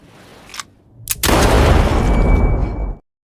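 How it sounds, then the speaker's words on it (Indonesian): A single gunshot as a man shoots himself in the head in a psychological thriller film, a sharp loud blast followed by a long roaring, reverberant tail, after a faint earlier pop. "suaminya melakukan bunuh diri dengan menembak kepalanya sendiri"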